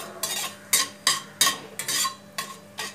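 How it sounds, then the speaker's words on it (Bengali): Cloves and crushed cardamom are stirred in a hot wok with a utensil, giving about eight distinct scraping strokes in an even rhythm over a faint sizzle, close and fairly quiet, with no voices. "এবার এটা নাড়িয়ে নেব।"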